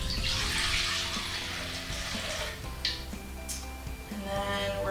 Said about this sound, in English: you're going to add your water to your bowl first